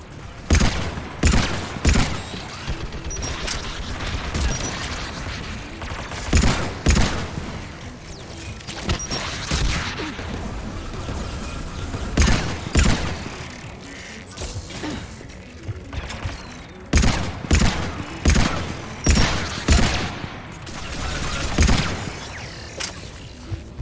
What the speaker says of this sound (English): Mounted turret.